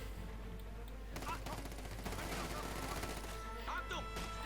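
MG-34 machine gun bursts in the strategy video game Company of Heroes 2 rattle in rapid repeated volleys, mixed with other battlefield fire and game effects under a steady background hum.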